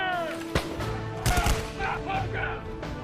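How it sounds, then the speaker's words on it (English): Musket volleys in a dramatised Revolutionary-era battle in Boston, several sharp shots fired at will over a sustained musical drone, close and fairly loud. "both sides commenced firing at will"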